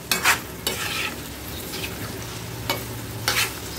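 Onions frying in hot oil in a pan for prawn do-pyaza, a steady close sizzle broken by a few sharp scraping stirs, with no one talking.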